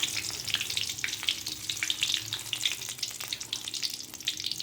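Bay leaf, cinnamon and star anise sizzling in hot oil in a kadai, a steady crackling spatter with rapid small pops throughout, close and fairly quiet.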